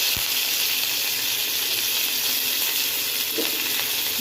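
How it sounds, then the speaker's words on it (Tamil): Mustard seeds and curry leaves sizzle in hot oil in a pan while masala sundal is being prepared, a steady, loud, close hiss with a faint pop or two, no talk. "கடுகு நல்லா பொரியட்டும்."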